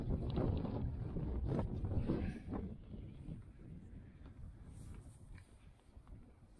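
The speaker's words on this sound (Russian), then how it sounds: "Ох, здесь какой ветер." Wind gusting across a standing-seam metal rooftop, a steady low rumble of buffeting against the microphone that eases off toward the end, with faint talk underneath.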